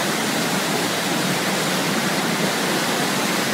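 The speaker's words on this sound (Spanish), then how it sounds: "Ahí veis cómo el agua va a empezar a pasar por encima del puente en cualquier momento si no afloja un poco la lluvia." A flooded river rushes under a bridge during heavy rain, making a dense, steady roar of water and downpour that holds an even level throughout, with no voices.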